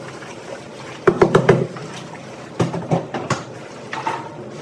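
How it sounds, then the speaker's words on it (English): Malted grain stirred by hand into hot water in a brewery mash tun for a blonde ale, heard as two clusters of wet sloshing and knocking strokes over a steady background hum. "We don't have a grist hydrator, so we get to stir this all in manually."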